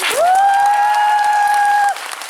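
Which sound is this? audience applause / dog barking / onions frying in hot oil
audience applause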